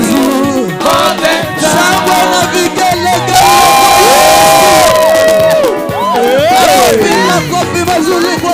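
Church congregation at a Sunday service cheering and applauding loudly, a dense roar of voices, shouts and whoops that stays close and intense throughout.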